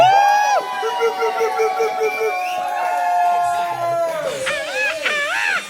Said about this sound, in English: we will be sort of like rehearsing the way how we applaud them